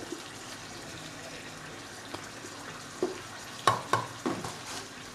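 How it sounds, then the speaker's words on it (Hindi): Beef frying and being stirred in a pot for biryani, a quiet steady sizzle broken by a few sharp scraping stirs near the end. "अब इसको अच्छे से भूनें"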